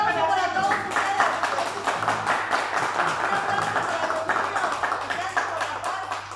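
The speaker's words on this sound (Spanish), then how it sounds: "Un aplauso para todos ustedes." An audience applauds at a charity telethon concert for peace, giving steady, moderately quiet clapping that carries on without pause and is heard alone.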